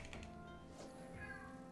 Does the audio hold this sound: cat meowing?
yes